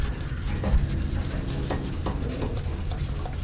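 An oxidised car headlight lens being sanded back and forth by hand with fine number 2 sandpaper, a steady close abrasive rubbing with a regular stroke rhythm over low background hum.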